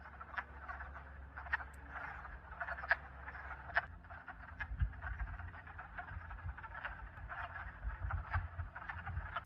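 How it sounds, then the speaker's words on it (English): Hundreds of wood frogs calling at a spring pond in mating season, forming a steady, dense chorus of overlapping clucking croaks that continues throughout at moderate distance. "is the sound of hundreds of wood frogs during the mating season"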